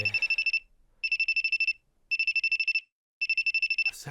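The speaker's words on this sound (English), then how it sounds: "In the middle of a snowy night, I receive a phone call from Akari's perspective." A telephone rings in the video game Aoi Tori on a snowy night: four evenly spaced bursts of rapid electronic trilling, loud and alone with no talk.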